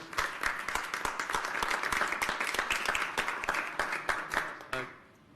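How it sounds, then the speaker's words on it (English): Board of education meeting attendees give a round of applause for an absent honoree, steady moderate clapping from a room of people lasting about five seconds before stopping abruptly. "let's at least give him a round of applause, even though he's not here"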